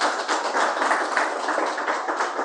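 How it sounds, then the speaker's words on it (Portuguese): Congregation clapping hands together in rhythmic, sustained applause in a church, dense and steady for the whole stretch with no voices. "Palmas para Jesus."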